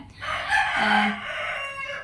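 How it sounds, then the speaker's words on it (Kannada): A rooster crows once in the morning, a loud, drawn-out cock-a-doodle-doo lasting about two seconds against a quiet background. "ಕೋಳಿಗಳೆಲ್ಲ ಕೂಗಿ ಕೂಗಿ ಬೆಳಿಗ್ಗೆ ಏಳಿಸ್ತವೆ ಆರೂವರೆಗೆನೆ ಶುರು ಆಗುತ್ತೆ ಕೊ ಕೋ ಕೋ ಹೇಳಿ ಕೂಗಿ ಕೂಗಿ ಸೊ ಇವಾಗ ಕೂಡ ಕೂಗ್ತಾ ಇದೆ ನೋಡಿ"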